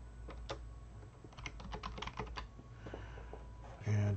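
Fingers typing a username on a computer keyboard, a quick close run of light key clicks in a quiet room, ending with a brief louder thump.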